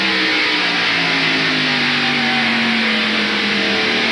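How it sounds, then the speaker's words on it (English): Stock cars at full throttle in the 1993 Hanes 500 race, a loud steady engine roar with droning harmonics that slowly shift in pitch as they pass, continuous and close. "On the throttle hard enough to get alongside and go down the front straightaway or back straightaway."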